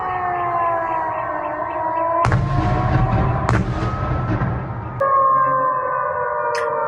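Rising and falling air raid sirens wail throughout over a Ukrainian city, broken by several loud, sudden booming explosions that crash in over the drone.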